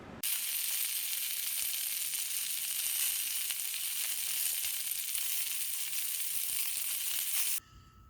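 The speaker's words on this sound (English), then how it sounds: "how about a little sausage sizzle to pass the time?" Sausage sizzling in a skillet, a steady hissing fry that stays even and fairly close for several seconds before cutting off abruptly, with no talking.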